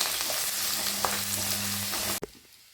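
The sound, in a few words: ginger, garlic and green chili sautéing in pan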